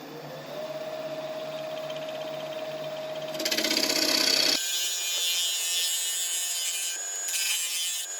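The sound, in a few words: scraping spalted wood on a woodturning lathe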